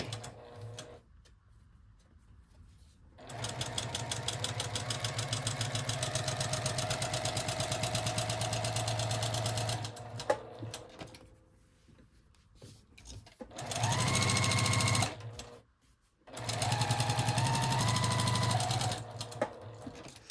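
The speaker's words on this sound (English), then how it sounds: "Slide that over to the sewing machine and stitch around the perimeter again." A sewing machine runs in long steady stretches of rapid stitching around the perimeter of fabric, stopping and restarting several times, loud and close.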